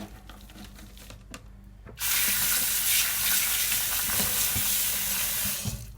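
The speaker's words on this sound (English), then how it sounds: "I'm taking my salad spinner, taking them out of the jar, and I'm going to rinse some of the seed husks off." Fenugreek sprouts are rinsed in a salad spinner: faint clatter and handling give way to a sudden, loud rush of running water that hisses steadily for several seconds, then eases off.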